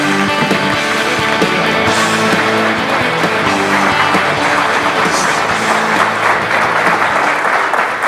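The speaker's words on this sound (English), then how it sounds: "put your hands together, and welcome Mr." A large conference audience applauds a speaker being welcomed on stage, a loud, dense and continuous wash of clapping with crowd noise that holds steady throughout, with no voices standing out.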